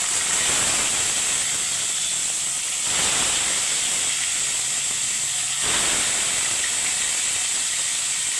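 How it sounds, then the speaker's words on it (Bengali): Boal fish pieces frying in hot mustard oil with black cumin give a loud, steady sizzling hiss. It swells twice as each piece drops into the pan, with no talk over it. "একটা একটা করে মাছগুলো দিচ্ছি।"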